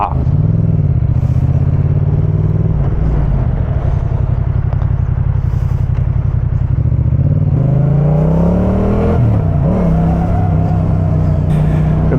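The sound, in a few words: motorcycle engine with light throttle blips while riding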